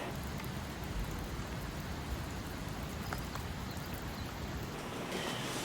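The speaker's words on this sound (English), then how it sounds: "rainy outside." Steady rain falls outside a mountain hut during a thunderstorm, a dense, even hiss of drops drumming on surfaces that holds constant throughout, with no voices.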